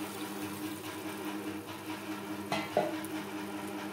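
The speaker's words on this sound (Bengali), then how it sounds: "মশলা ও আলুর সাথে মোচা বেশ ভালো করে মিক্সড করে দেব।" Banana flower mixed with spices and potato is stirred in a pan for niramish mochar ghonto, a faint, low sizzle with a couple of soft scraping knocks near the end.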